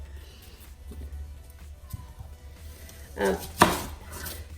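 A knife slices red onion on a cutting board in a home kitchen, giving two quick, close cuts late in the clip over a low room hum.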